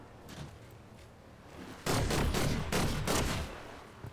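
Loud, close automatic gunfire in Fortnite rattles out in a rapid burst of shots after a quieter opening, lasting about two seconds before fading.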